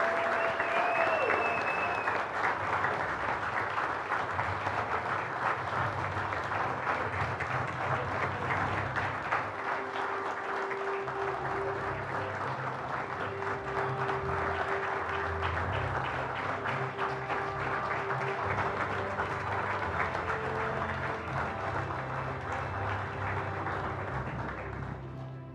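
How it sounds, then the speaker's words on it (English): A Hall of Fame banquet audience gives a long, sustained round of applause for six inductees. The dense clapping stays steady for about twenty-five seconds, with some faint voices mixed in beneath it. "can we give one more giant round of applause for our 6 inductees tonight?"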